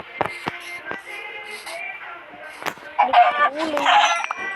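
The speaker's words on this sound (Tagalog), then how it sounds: "May manok." Short chicken clucks and squawks in a survival video game soundscape, mixed with clicks and electronic effects, with a louder burst of bird calls near the end.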